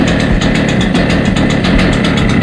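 Stihl TS400 cut-off saw with its gas engine running on choke, a loud, close, rapid pulsing putter that stays steady and uneven in tone throughout.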